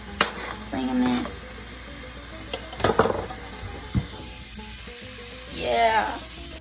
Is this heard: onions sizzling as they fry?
yes